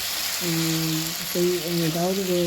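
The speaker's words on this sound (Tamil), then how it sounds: "இந்த அளவுக்கு வந்து கொத்தமல்லி தழை வறுத்திக்கோங்க" Coriander leaves fry in a pan of pepper chicken gravy with a steady, close broadband sizzle, while a voice speaks over it.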